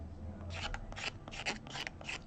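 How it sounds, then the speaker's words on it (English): Repeated rasping scrapes on a Made-in-Japan Ibanez guitar during setup work, about six short strokes in quick succession, close and fairly crisp, with no speech. "Never scrape towards your fingers. Always scrape away"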